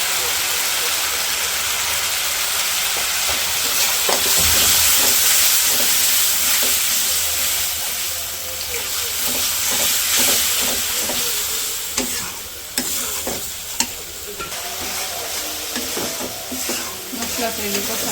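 Spice paste with chili powder sautéing in a pan, a loud sustained sizzle and hiss with repeated scraping strokes of a spatula, close and continuous throughout.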